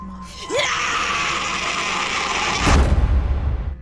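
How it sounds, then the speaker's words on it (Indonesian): A woman's hysterical scream from a horror film, a sustained loud shriek over tense music and a heavy low boom near the end. "Helena justru kembali berteriak histeris"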